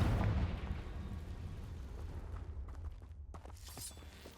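A Confringo fire spell goes off in the video game Hogwarts Legacy, a fairly faint explosive boom followed by a crackling, rumbling tail and scattered small bursts.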